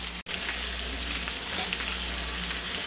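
Adobo-marinated pork chops sizzle and fry steadily in an uncovered pan, a constant close crackling hiss throughout, with a brief dropout near the start and no talk.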